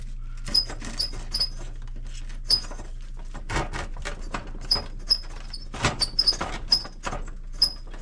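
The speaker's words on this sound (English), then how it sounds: "Oven's a little squeaky." Oven squeaking while a Sicilian chicken Alfredo pizza is prepared: short, high-pitched squeaks repeat irregularly over a steady low hum, with occasional knocks and clatter in between.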